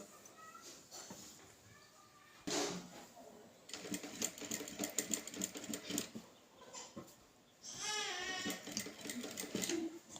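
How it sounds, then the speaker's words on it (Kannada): Sewing machine stitching canvas interfacing along a blouse edge, running in bursts of rapid mechanical chatter that start and stop, with a voice speaking in between. "ಈ ಕ್ಯಾನ್ವಾಸ್ ಕರೆಕ್ಟಾಗಿ ಎಡ್ಜಿಗೆ ಸ್ಟಿಚ್ ಹಾಕೋಬೇಕು"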